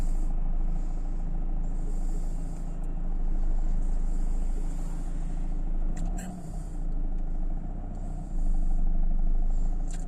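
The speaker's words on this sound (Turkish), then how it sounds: "aracımı geriye doğru getirmeye devam ediyorum" A car reverses slowly while parallel parking alongside a curb, a low, steady engine rumble running throughout under someone talking.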